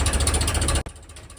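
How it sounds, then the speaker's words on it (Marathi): A tractor engine runs close and steady while it levels a road, then cuts off abruptly with a sharp clunk and falls into near silence. "हे ट्रॅक्टर करून हे गाडीचा रस्ता आम्ही सवान करत आहे"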